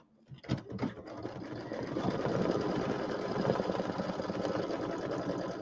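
An embroidery machine stitches a small middle square for reverse applique, starting with a few loud clunks and then settling into a rapid, steady mechanical hum of needle strokes, close and continuous.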